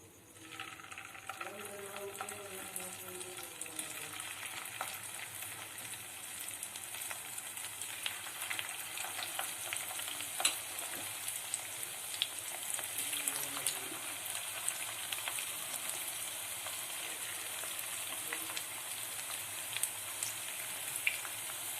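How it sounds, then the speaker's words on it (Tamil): Chicken pieces deep frying in oil over a medium flame for honey chilli chicken, with a steady dense sizzle and crackle running throughout and faint voices at moments. "சிக்கன் ஃப்ரை பண்ணும்போது மீடியம் ஃப்ளேம்ல வச்சு ஃப்ரை பண்ணுங்க."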